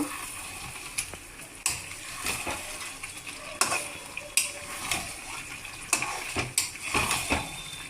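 Radhuni chicken is mixed in a frying pan, with repeated clinks and scrapes of a utensil against the pan over a soft background of sizzling. The knocks come close and fairly regular, and no one speaks.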